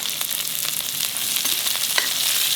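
Sliced onions fry in a pan with a steady, bright sizzle and scattered light crackles and pops, close and fairly loud, with no voices.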